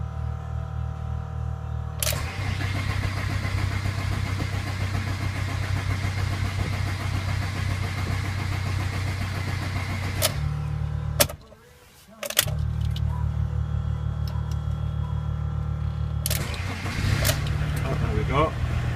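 A Fiat Ducato diesel engine, which has had poor starting from a fuel return leak, runs at a steady, loud idle with a low rumble, briefly cutting out and picking up again amid clicks.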